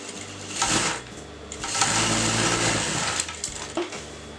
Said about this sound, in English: I'm going to put a stitch over here